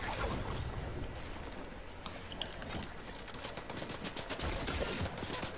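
Rapid gunfire in a video game comes as a steady crackle of overlapping shots with a few sharper reports toward the end, fairly quiet and busy.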